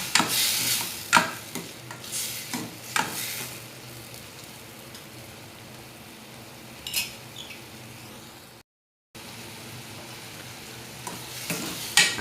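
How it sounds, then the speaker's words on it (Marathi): Washed lentils (dal) stirred and sautéed in a pan for a drumstick (shevga) curry: scraping spoon strokes come in irregular bursts over a steady low sizzle, with a short silent gap near the end. "आता ही डाळ सगळी टाकून घेते त्याच्यात. त्याला परतून घेते."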